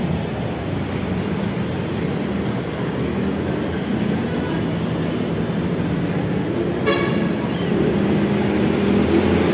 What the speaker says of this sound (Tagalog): Yan guys, nandyan na yung tren.